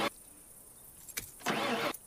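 Broken-down car with its hood open, engine cranking without catching: a short crank at the start, a brief stab later, then a longer grinding attempt that cuts off without the engine firing.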